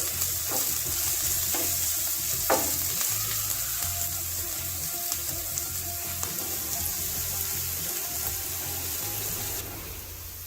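Chopped onion sizzles and fries in a pan for a banana stem curry, a steady broadband hiss with occasional stirring scrapes, close and continuous with no talking.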